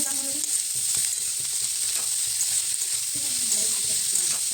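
Tomatoes and chilli fry in a pan for a homestyle pasta sauce, a steady close sizzle broken by light scraping strokes of stirring, with no one talking.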